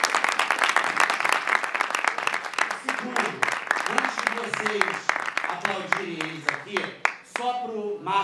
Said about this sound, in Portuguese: um aplauso da mesa para vocês que tiveram a generosidade de estar com a gente até agora